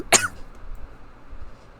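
One short, harsh cough from someone with something stuck in the throat, close and abrupt, then near silence with faint background noise.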